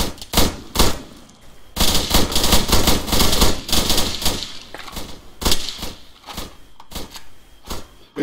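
Airsoft guns firing during a game at a house, in repeated sharp bursts and rapid rattling volleys, fairly close and loud with only short gaps between the bursts.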